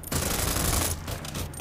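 A loud, dense burst of rapid automatic gunfire from the Free City shooting game rattles for under a second, followed by a few scattered trailing shots.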